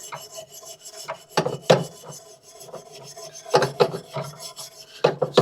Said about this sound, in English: Just using a wire brush